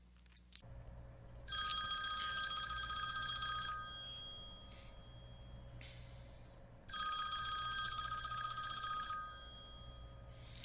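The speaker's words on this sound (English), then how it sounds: "the phone rings" A telephone rings indoors in a house during winter: two loud, close bursts of bright electronic ringing, each lasting about two seconds, separated by a short quiet gap, with no one speaking.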